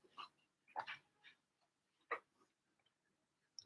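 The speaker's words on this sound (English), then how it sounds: "It's my dog. Pumpkin's with me." A pet dog named Pumpkin gives a few soft, scattered whimpers and yips close by in a quiet room, separated by short silences.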